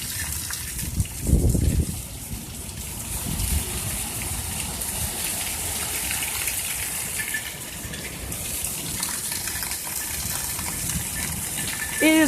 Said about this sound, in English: It is raining so goddamn hard